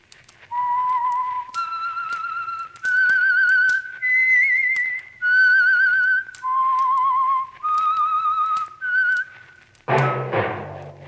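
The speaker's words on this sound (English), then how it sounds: "That whistle is your signal for the Signal Oil Program, The Whistler." The signature whistle of the radio drama The Whistler, a lone person whistling a slow melody of eight clear sustained notes, followed by a brief burst of orchestral sound.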